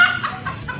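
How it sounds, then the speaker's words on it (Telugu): Hens cluck in short repeated bursts close by at a rural home, a steady run of clucks and chatters with no one talking. "కుక్కర్ అంటున్నాయి కోళ్ళు. విన్నాను."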